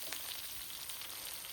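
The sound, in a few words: butter and olive oil sizzling in pan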